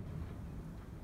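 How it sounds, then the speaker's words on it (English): Strong wind gusting across the microphone on a canyon hike near the Chugwater Formation, a steady low roar with rumbling buffets filling the whole moment, no voices. "It's real windy."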